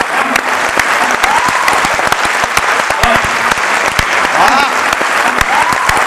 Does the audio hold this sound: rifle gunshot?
no